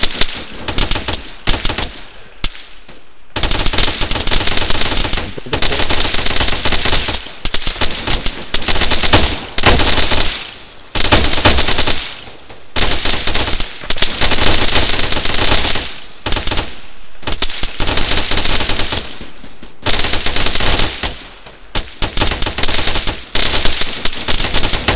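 Loud machine-gun fire in the military shooter Arma 3, with long sustained automatic bursts broken by brief pauses over the whole stretch and no voices.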